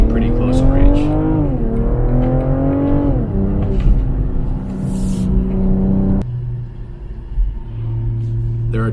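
A 2021 BMW M440i drives along with a steady engine rumble, its revs rising and settling through a couple of gear changes, while a person talks over the drone from inside the cabin.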